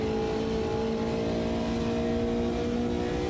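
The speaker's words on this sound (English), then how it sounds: "You can hear the engine sputtering through Johnson" A race car engine hums at a steady pitch, a continuous mid-range drone with no clear rise or fall. It plays alone with no voices.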